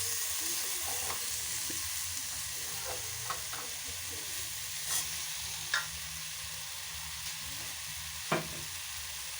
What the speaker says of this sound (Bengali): এই মাশরুমগুলো ততক্ষণ হোক ভাজা